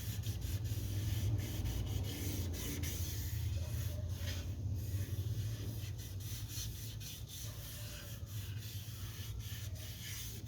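Steady, close rasping of sandpaper rubbing back and forth over a wooden guitar neck in continuous strokes, with no talking.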